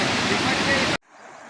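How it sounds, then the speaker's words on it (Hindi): Rushing water of the Sharda river near Palia during flooding, a loud, steady broadband roar that cuts off abruptly into faint background hiss. "देखो ये है शारदा नदी और इसमें पानी आधे में चल रहा है"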